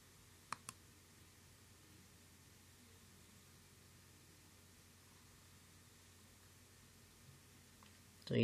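A computer mouse clicks the roll button on a free Litecoin mining website: two quick, faint clicks just after the start, then a long stretch of quiet background hiss.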